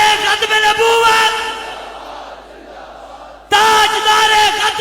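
A large crowd at a religious rally loudly chanting the slogan Tajdar-e-Khatm-e-Nabuwwat, with massed voices roaring in unison, trailing off into a murmur, then surging back abruptly with full force.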